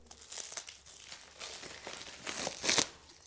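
Crinkling, crumpling wrapping as a package holding several copies of a book is unwrapped, a run of close, uneven rustles and crackles building to a louder burst near the end, with no talking.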